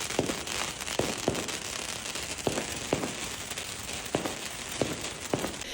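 New Year's Eve fireworks in a Chinese city: repeated sharp bangs and crackling pops at irregular intervals over a steady hiss of distant bursts, some near and loud, others far off.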